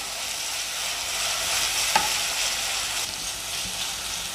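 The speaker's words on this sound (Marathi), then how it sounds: "1 मिनिट मी आलं लसणाची पेस्ट परतून घेतलेली।" Ginger garlic paste sautéing with browned onion for an egg dish, steady close frying hiss broken by a couple of sharp utensil taps.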